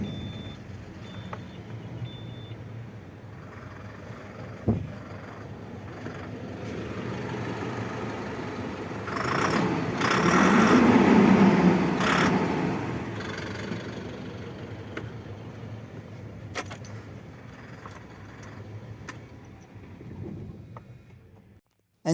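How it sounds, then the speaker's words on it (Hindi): A Tata LPT 1816 BS6 six-wheeler truck with a sleeper cabin starts up and settles into a steady mid-pitched idle, swelling briefly in the middle. A faint reversing beep repeats alongside it. "अभी इंजन को स्टार्ट कर इंजन के साउंड सुनाएंगे।"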